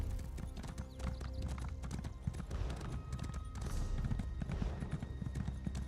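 Horse hooves clip-clop at a steady trotting rhythm while riding in the video game Elder Scrolls Online, close and fairly loud, continuous for the whole stretch without speech.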